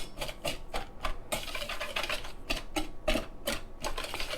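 Cocoa powder and dry ingredients for a skillet lava cake whisked in a bowl, quick rhythmic ticking strokes of the whisk against the bowl, close and steady, no talk.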